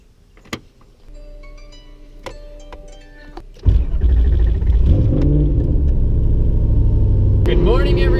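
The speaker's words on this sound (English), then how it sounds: "I don't have to scream over the exhaust of the 240." A Nissan 240SX S13 with a new exhaust starts up after a few clicks and switch sounds, settling into a loud, steady, rumbling idle that holds close by and continues to the end.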